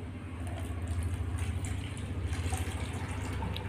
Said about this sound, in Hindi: तो सिंपली इसमें मैं 350 ग्राम तक पानी ले लेता हूँ